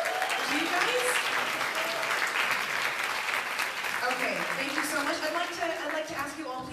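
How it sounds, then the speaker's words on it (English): Sustained applause from the audience at a Captain Marvel fan event press conference in Singapore, greeting the cast and directors; dense, steady clapping throughout with scattered voices and whoops mixed in. "Let's give them a big round of applause"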